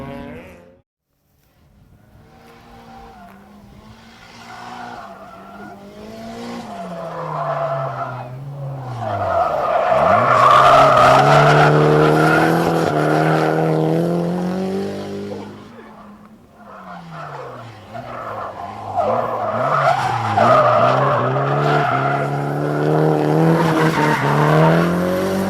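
A drift car slides sideways at around 100 mph, its tires squealing in long, loud sustained screeches over a roaring, revving engine; the squeal swells, dips briefly, then surges again.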